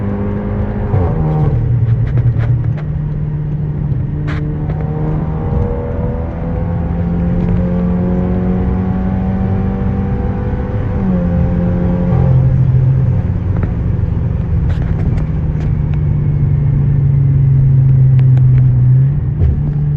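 A 420-horsepower 2019 Volkswagen Arteon accelerates with twin turbos, the engine drone rising steadily in pitch through a gear change, loud and continuous from inside the cabin.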